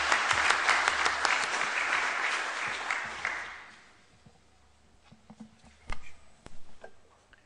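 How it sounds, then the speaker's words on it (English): An audience at the opening session of a religious order's general chapter breaks into dense applause that fades out after about three seconds, leaving a few scattered claps and faint room noise. "big applause"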